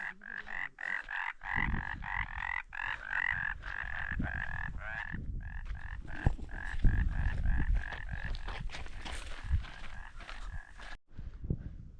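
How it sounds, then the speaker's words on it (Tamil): A chorus of frogs croaks continuously in rapid, rattling pulses, steady and moderately loud, with faint rustling underneath. "தவளைன்னு சொல்லி நினைக்கிறேன்"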